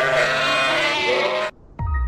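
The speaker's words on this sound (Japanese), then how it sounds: "ヤギの鳴き声みてえな音がする。" Goat-like bleating, one long wavering animal cry held for about a second and a half, then cut off, followed after a short gap by the start of a second bleat.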